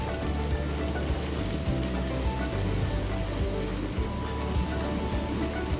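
Dry vermicelli (semiya) tipped into a hot pan over a low gas flame, giving a steady, close crackling sizzle like rain on a surface that carries on unbroken for several seconds with no talk.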